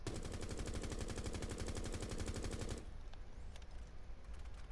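Unattached assault rifle in Rainbow Six Siege firing a loud, continuous rapid burst for nearly three seconds, then stopping into a quieter stretch of scattered clatter and game noise.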